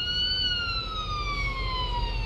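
Police car sirens wail in the Police Simulator: Patrol Officers game, a steady tonal siren sliding slowly downward in pitch over a low rumble, moderately loud and continuous, with no talk over it.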